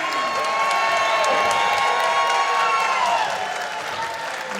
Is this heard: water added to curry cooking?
no